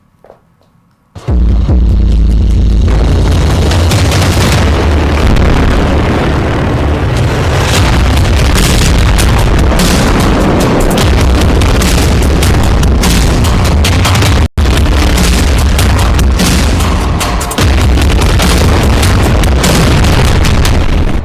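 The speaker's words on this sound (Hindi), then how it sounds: "अब रफा में 2-2 हजार किलो के बम गिराए जा रहे हैं" Heavy bombs of around two thousand kilograms exploding in Rafah: a sudden massive boom sets off a sustained, roaring, crackling din that stays loud and dense for about twenty seconds, with one sharp burst partway through.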